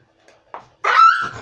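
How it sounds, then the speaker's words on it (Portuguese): A dog being teased lets out a short, close yelp followed by a sustained high whine or whimper, preceded by a couple of faint soft sounds. "É o Raul irritando o cachorro."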